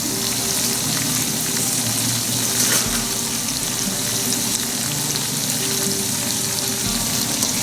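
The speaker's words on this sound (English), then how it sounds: "But I want to cook the refried beans." Refried beans cooking in a pan, a continuous bubbling sizzle with occasional pops and splatters, close and fairly loud, with no talking over it.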